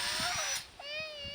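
A power drill whines steadily at high pitch while drilling into a wooden railroad tie, shifting tone briefly midway, with faint background noise.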